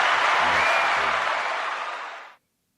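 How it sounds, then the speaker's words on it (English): A short burst of applause from a gathered audience, starting loud and then fading out over a couple of seconds. "Round of applause."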